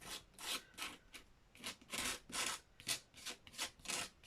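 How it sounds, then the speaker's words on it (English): Repeated rasping scrapes while collage gift tags are being made, about a dozen short strokes in an uneven rhythm, close and fairly quiet, with no talking. "that's probably a really loud scraping sound"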